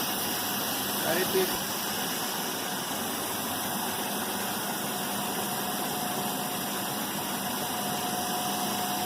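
A motor-generator set runs during a Hopkinson test, giving a steady, even machine hum with a constant whine that holds unchanged from start to finish.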